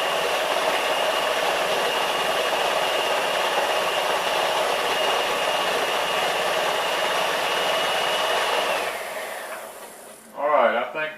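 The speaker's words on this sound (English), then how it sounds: "Sometimes you may have to help with our mixer." A stand mixer whirs steadily as it works thick gluten-free bread dough to a buttercream consistency, a loud, even motor drone that cuts out near the end, followed by a brief voice.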